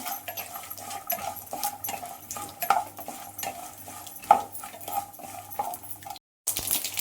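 Peanuts roasting in a pan for aloo capsicum bath, stirred with a metal spoon in steady scraping and clinking strokes, with a faint sizzle beneath and a brief silent gap near the end.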